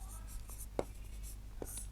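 A teacher writes a triangle label on a board during a class 6 geometry maths lesson, giving a few faint, close taps and strokes over a low steady background hum.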